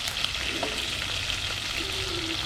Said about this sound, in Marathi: आपण फ्राय फिरवणार आहोत फ्रायचे तुकडे आहेत ना आपल्याला फिरवायचे